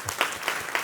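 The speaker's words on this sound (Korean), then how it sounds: "주님께 박수 한번 하셔주세요" Congregation applause in a church service, a short burst of clapping with a few sharper claps standing out from the crowd.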